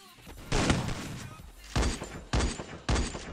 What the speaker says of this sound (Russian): Ну давай, стреляй, здесь в землю стреляй.